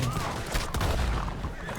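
A burst of gunfire crackles amid a busy game soundscape, with a sharp shot standing out near the middle over a low rumbling bed.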